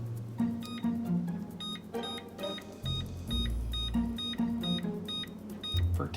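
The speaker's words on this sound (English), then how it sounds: "So let's set our timer again." Kitchen timer set while baking bread in a Dutch oven, giving repeated short electronic beeps in regular bursts over low background rumble and clatter.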